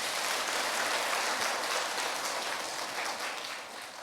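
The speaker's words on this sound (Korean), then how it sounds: "박수 한번 치세요." Congregation applause at a Friday church service, steady dense clapping filling the space and easing off slightly at the end, with no talk over it.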